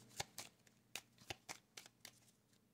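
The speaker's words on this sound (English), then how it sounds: "cutting the cards" A deck of playing cards is shuffled and cut, giving a quiet run of crisp riffling snaps and soft slaps at an uneven rhythm, close by with no voices.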